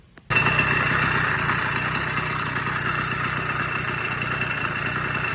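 A small homebuilt motorized bicycle engine starts and then runs steadily at a buzzing idle, close and loud, with no talking.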